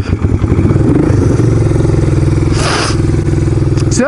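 An old motorcycle in neutral being kicked over and firing up, its engine settling into a loud, steady, throbbing idle with a brief scrape or clatter partway through; no speech over it.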